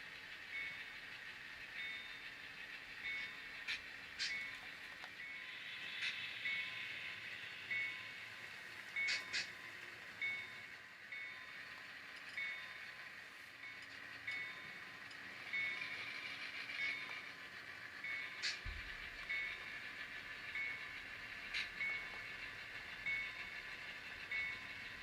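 Model train rolling along a layout spur track, a quiet steady running hum with faint intermittent clicks and squeals throughout, no voices.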